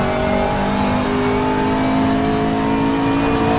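A race car engine in Assetto Corsa holds a loud, steady high-revving drone, its tone rising slightly as the throttle stays open, with no talk over it.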